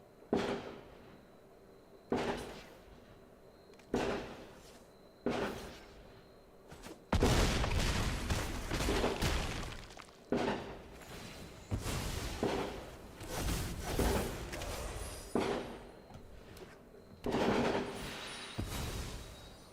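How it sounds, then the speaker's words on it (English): Fireworks going off outside, heard through a window as repeated booming bursts, first spaced a couple of seconds apart and then crowding into a dense crackling barrage, distant but strong. "The occasion for fireworks?"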